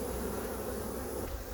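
Honey bees swarm around a beehive whose queen has returned from her mating flight, producing a steady, close, droning buzz that runs unbroken throughout.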